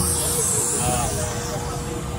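A continuous, steady mechanical hiss and hum runs unbroken as a vacuum pump works on a Mitsubishi Mirage's air-conditioning system after the evaporator is refitted, fairly loud and close.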